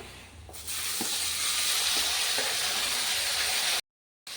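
Cooked jackfruit seeds dropped into hot oil already tempered with asafoetida, giving a steady, close sizzle and hiss that swells after a soft start and holds loud, then cuts out briefly near the end.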